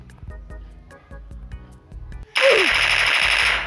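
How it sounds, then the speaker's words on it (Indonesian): Uzi submachine gun in a first-person shooter game: a sudden sustained burst of rapid automatic fire, loud and close, following a stretch of quieter clicking and handling sounds. "Oke, ini suara senjata Uzi cuy kayak gini."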